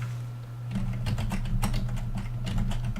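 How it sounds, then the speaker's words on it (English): Fingers type on a regular computer keyboard in a quick irregular run of crisp, close key clicks over a low steady hum, with no talking. "That is the sound of my keyboard."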